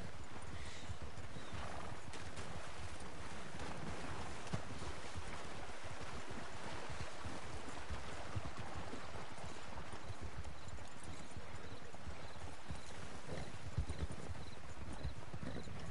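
Horses on a night-time trail ride in the Red Dead Online video game, hooves clip-clopping steadily with occasional neighs over a soft ambient bed.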